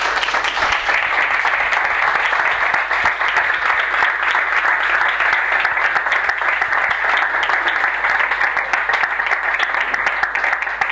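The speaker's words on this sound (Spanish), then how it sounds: "muchas gracias y un aplauso para Paula Tuzón" An audience applauds at the end of a science education talk in Spain, with dense, steady clapping that fills the whole stretch at a loud, even level.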